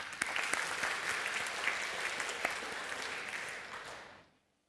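Congregation applause at an HKBP Menteng church mission evening service, a dense, steady wash of many hands clapping that holds for about four seconds and then fades out.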